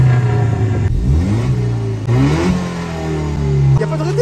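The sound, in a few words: Peugeot RCZ R engine revving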